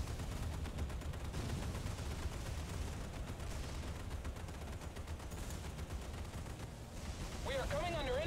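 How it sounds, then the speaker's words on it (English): Enemy gunfire in a video game naval battle, a dense, continuous rattle of shots held under a steady roar, with a tone sweeping upward near the end. "We are coming under enemy fire."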